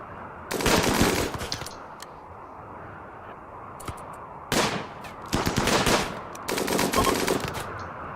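Bursts of rapid automatic gunfire in the video game Rimworld, three loud clusters of shots separated by quieter gaps with a few scattered single pops.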